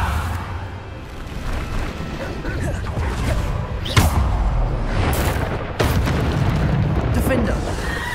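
Bombarda blast spells cast in Hogwarts Legacy combat, booming explosive bursts around 4 and 6 seconds over a dense, continuous wash of magical battle noise, with a voice calling out spell names.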